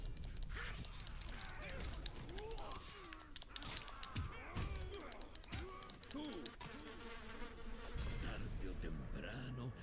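Flies buzz steadily in the video game Shadow of Mordor, a droning insect hum that carries on under other game sounds and occasional voices.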